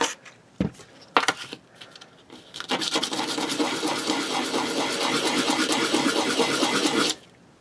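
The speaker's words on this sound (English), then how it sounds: "I'm going to do a little sanding on that first" Rapid back-and-forth sanding strokes on a TRX4 model truck drive shaft grind steadily for several seconds, close and fairly loud, after a few brief knocks and scrapes.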